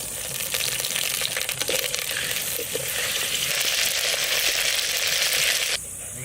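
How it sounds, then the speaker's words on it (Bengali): Potatoes fry in mustard oil in a clay pot, a loud, continuous close sizzle with crackling spatter and a few stirring clatters, then the sizzle abruptly drops in level near the end. "তো আলু ভাজার জন্য সর্ষের তেল"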